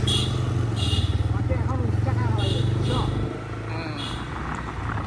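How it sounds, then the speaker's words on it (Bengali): A motorcycle engine putters along with a steady throbbing rhythm that eases off partway, while people talk over it. "অনেক দিন পর বাইক চালাচ্ছে"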